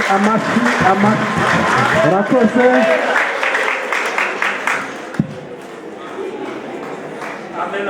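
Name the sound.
wedding guests applauding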